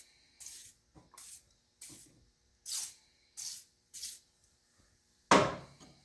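Boeshield T-9 rust protectant is sprayed from an aerosol can in a workshop, seven short hissing bursts in an uneven rhythm, the last one loudest, with no talking.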